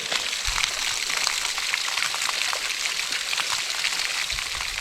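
Water pours steadily from a lake overflow outside on a countryside walk, a continuous hissing rush with fine splashy texture, close and fairly loud with no voices.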